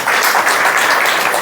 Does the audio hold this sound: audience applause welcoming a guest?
yes